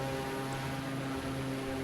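Propeller aircraft droning steadily overhead near an airstrip in New Zealand's South Island bush, a faint continuous hum and buzz with no talking.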